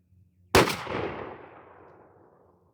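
A single loud shot from a Remington 870 12-gauge shotgun with a turkey choke and 24-inch barrel, firing a 3-inch Herter's Strutter #5 turkey shell. A sharp close blast decays into a long rolling echo outdoors.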